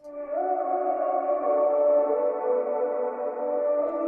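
Several filtered hummed vocal layers for a melodic dubstep intro in Ableton play together with heavy reverb, forming a soft, sustained chord that drifts between pitches, alone and even in loudness.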